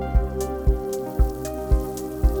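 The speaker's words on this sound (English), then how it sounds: "I can have the rain come up" Soft steady patter of a synth plugin's rain sound layer over a sustained synth tone, with a deep kick drum thumping at regular intervals.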